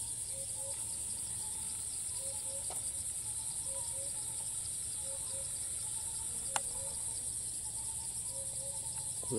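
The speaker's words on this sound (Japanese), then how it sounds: "セミいっぱいいるね。" A dense chorus of many cicadas in Thailand buzzes in a constant loud drone, with a few faint clicks and chirps over it and no voices.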